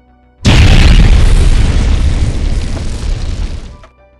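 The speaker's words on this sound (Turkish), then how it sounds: "Uğur Mumcu'nun arabası infilak etti." A car bomb of C4 plastic explosive blows up on a street in Ankara, giving a single huge, close blast that roars and rumbles for about three seconds before dying away, with no voices.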